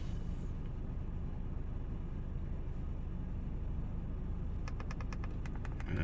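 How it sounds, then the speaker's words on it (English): A Mercedes SLK with a fuel trim fault idles smoothly, a steady low engine rumble heard up close, with a few faint ticking sounds near the end. "Engine smooth running."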